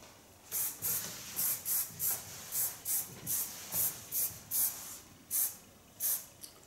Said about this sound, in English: Fixate the hairs with a bit of hairspray.